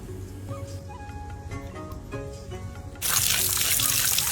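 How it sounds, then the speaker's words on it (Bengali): Shrimp rinsed in a basket: soft wet handling and dripping for about three seconds, then a sudden loud rush of running water pouring steadily to the end. "ঝুড়িতে ভালো করে ধুয়ে নিলাম।"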